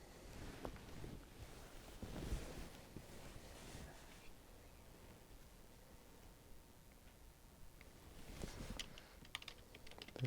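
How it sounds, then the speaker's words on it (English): Keys clatter on a Logitech K480 Bluetooth keyboard in a quiet room, quick irregular bursts of soft clicks with a pause in the middle before typing resumes, close and fairly faint. "There it is, Logitech keyboard K480. Go home and start up a note."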